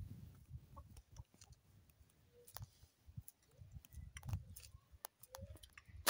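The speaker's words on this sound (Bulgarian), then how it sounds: "Те нямат петел, но пък имат 5 прекрасни кокошки." Five hens clucking in a backyard chicken coop with no rooster, soft scattered clucks and short calls repeating at moderate distance over low rustling, with no talk.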